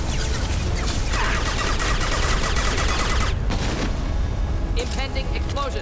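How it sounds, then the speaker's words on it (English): Explosions and heavy gunfire rumble loudly in a firefight in Mass Effect 2 Remastered, with dense, continuous booming and crackling blasts filling the scene. "Impending explosion."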